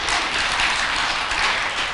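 An audience at a Buddhist dharma talk in a temple hall applauds, a steady, even wash of clapping with no voices over it.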